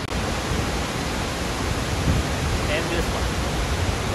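Rainbow Falls at Mammoth Lakes, California pours in a steady, dense roar of falling water, broad and constant throughout, with a person speaking briefly over it.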